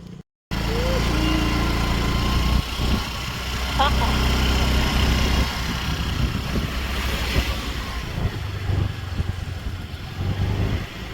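A motor scooter ridden along roads in Goa gives a steady engine drone under heavy wind rush that runs almost unbroken for the whole stretch, with faint talk under the noise.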